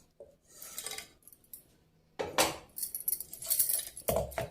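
Dried coconut pieces tumble into a pan in a few brief clattering bursts with light scraping between them, close and fairly quiet, no voices.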